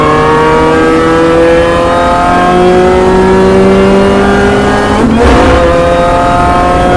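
A Mini Challenge Clubsport race car accelerates hard at Donington Park during a race, loud in-car engine drone climbing steadily through the revs, with a brief burst of noise like a gear change before the note drops and rises again.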